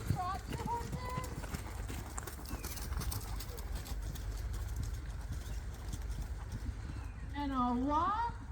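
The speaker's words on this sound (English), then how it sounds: "And trot, please. Trot your horses." Horses trotting in a show ring make a steady hoof clip-clop at a middle distance, with bird calls near the start and end and a murmur of voices in the background.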